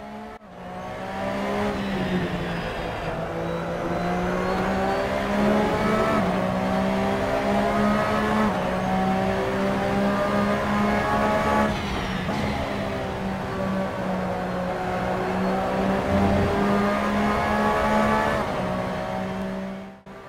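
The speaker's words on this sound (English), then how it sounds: "the sounds are also pretty well done on this 2017 911 RSR" A 2017 Porsche 911 RSR race car engine in the Assetto Corsa racing game, loud and close, held at high revs with rising and falling pitch through gear changes for the whole stretch.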